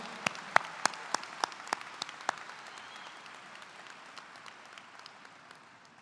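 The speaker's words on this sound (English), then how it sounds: "Can we give one more round of applause?" Applause for speakers at a high school graduation ceremony, several sharp nearby claps at first over a wash of distant crowd clapping that thins and fades out, fairly faint overall.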